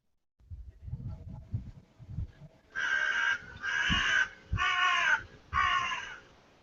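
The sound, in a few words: crows cawing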